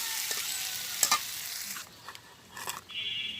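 Pieces of taro fry in a pan with a steady, soft hiss of oil. A few light scraping stirs cut in, and the sizzle briefly drops away before picking up again.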